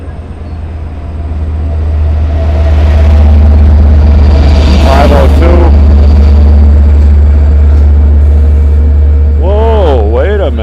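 Long Island Rail Road Train 16, the Cannonball, passing at Westhampton with a DM30 locomotive: a deep loud diesel rumble builds and holds steadily, with horn-like wavering tones and rail noise, and voices talking over it.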